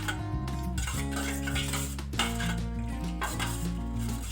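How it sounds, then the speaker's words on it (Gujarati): Amla juice with fennel seeds stirred in a vessel, a few soft clinks and scrapes of a spoon against the container over a steady humming tonal background, quiet and close. "હવે આ બધી વસ્તુને આપણે સરસ એકદમ હલાવી દેવાની છે."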